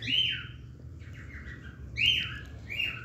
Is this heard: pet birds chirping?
yes